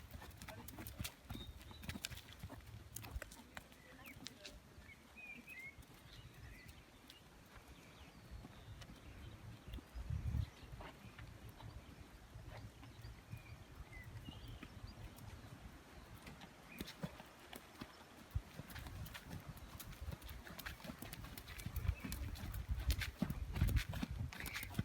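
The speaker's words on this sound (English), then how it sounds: "if we could just see some trot and some canter" Warmblood horses trot and canter, their hooves a faint, distant, continuous clip-clop with a shifting rhythm across the whole stretch, under a quiet outdoor background with no talk.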